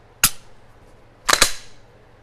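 A pistol fitted with an SSVI Tier trigger makes a crisp, sharp click, followed a second later by two more quick clicks in close succession. The clicks are loud and close in a quiet room.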